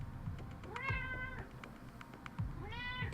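A house cat meows twice, close and clear, with drawn-out rising-falling calls separated by about a second and a half, over faint background game sound and no talking.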